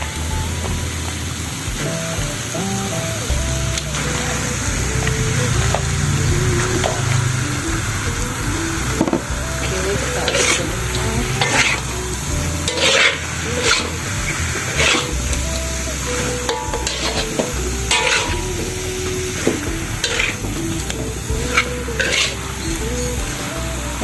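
Beef for rendang is stirred into a pan of fried spices with wilted turmeric leaves, giving a steady, close sizzle with scraping stirs and light clatter of the utensil against the pan throughout.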